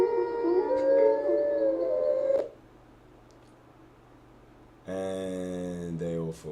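Wolves in the puzzle game Tengami give a loud, wavering howl, then go quiet before a bright cluster of steady chime-like tones that sound like wind chimes.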